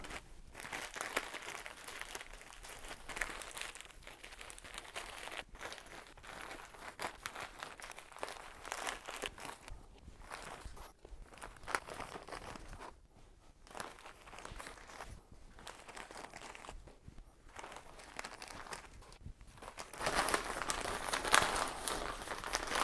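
Thin plastic bags rustle and crinkle steadily as damp moss is stuffed into them for air-layering a ficus benjamina bonsai, close and fairly quiet, with brief pauses between handfuls and no talking.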